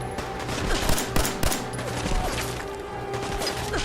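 Rapid 10mm pistol shots fired at a super mutant in Fallout 4, a quick irregular series of sharp cracks with several louder reports amid a busy rumbling background, no voices.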